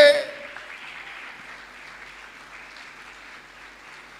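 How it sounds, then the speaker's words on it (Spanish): A church congregation applauds during a sermon, a diffuse, even patter of many hands that starts with a brief louder burst and then continues at a softer, steady level. "Alguien que lo celebre con un aplauso fuerte"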